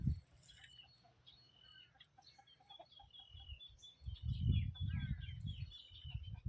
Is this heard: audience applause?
no